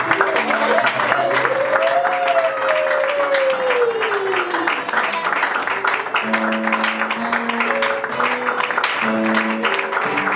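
A church congregation applauds continuously at a worship service, dense steady clapping filling the room alongside music and a voice speaking over it.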